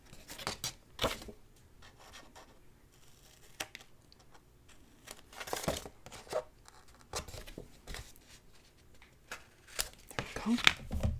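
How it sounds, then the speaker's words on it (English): Scissors snip the corners of paper for a handmade mini album, giving sharp, brief cuts spaced irregularly across the stretch, fairly close and quiet against a soft room background. "And I'll grab my scissors, and I'm just going to trim the corners a little bit."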